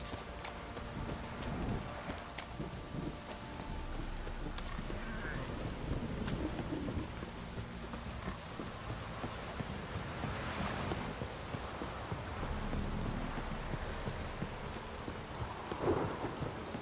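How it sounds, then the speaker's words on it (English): Rain pours steadily in a Witcher 3 game scene while thunder rolls and cracks in the distance, a continuous wash of falling water with low rumbles building and fading, fairly quiet overall. "Don't stop raining, my arse will rot off."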